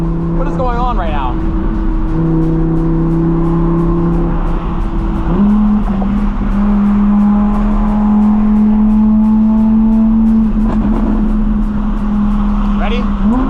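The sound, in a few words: Audi R8 engine with loud exhaust pops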